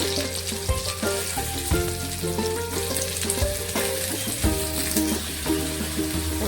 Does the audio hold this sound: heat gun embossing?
no